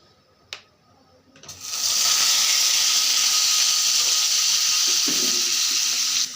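Potatoes drop into hot oil in a wok and burst into a loud, steady sizzle after a brief quiet start, holding a strong hiss to the end with a faint clink near the close.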